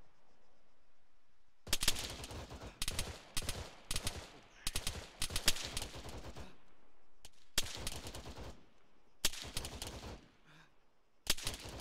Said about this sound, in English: Is that a friendly shooting at us? Bravo team, you're shooting at friendlies